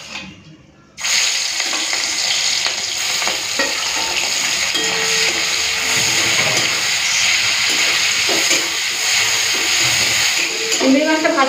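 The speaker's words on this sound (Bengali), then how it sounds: "তেলটা গরম হয়ে গেছে, চিংড়ি মাছটা ভেজে নিই।" Marinated prawns drop into hot oil and set off a loud, sudden sizzle that stays dense and steady to the end, with a few faint utensil scrapes mixed in.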